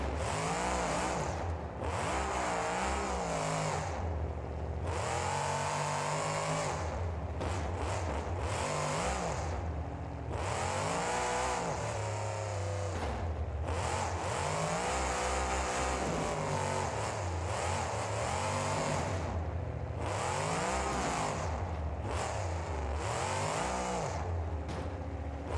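A monster truck engine in the BeamNG video game revs hard and repeatedly in loud bursts and surges, freestyling over ramps at a Monster Jam event in East Rutherford, New Jersey.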